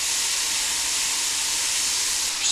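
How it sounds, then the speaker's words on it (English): Mushrooms sizzling in a pan over high heat while being stirred, a loud, steady hiss that holds evenly throughout with no voices. "They've cooked down quite a bit, just giving them a quick stir."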